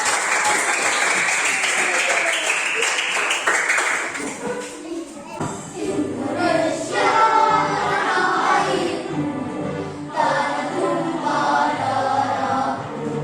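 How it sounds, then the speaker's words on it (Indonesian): A school class applauds for about four seconds, bright and close, then the clapping gives way to children's and adults' voices talking. "tepuk tangan teman-teman"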